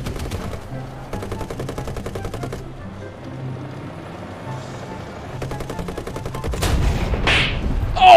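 Heavy bursts of gunfire and cannon fire from a tank battle in War Thunder, with a loud main cannon HEAT round impact near the end, rapid repeated shots in clusters throughout.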